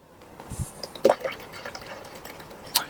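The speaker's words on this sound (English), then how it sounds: "we'll fill the rest from the 8 to the 10 with the white vinegar" White vinegar pouring into the water reservoir of a Homtone CM4266 drip coffee maker, a soft, close trickle with a few brief splashes and clinks, short and fairly faint.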